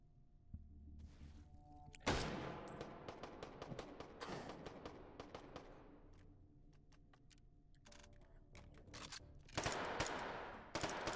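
Video game gunfire in rapid automatic bursts and single shots, crackling and close, with a brief pause before another dense volley near the end.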